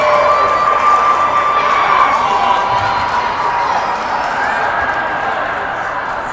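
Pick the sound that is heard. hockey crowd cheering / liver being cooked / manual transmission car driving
hockey crowd cheering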